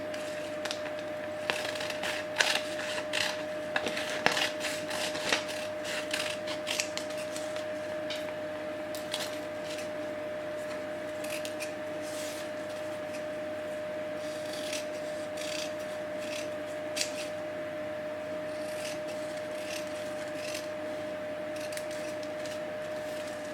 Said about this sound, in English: I can just cut out simple tree shapes.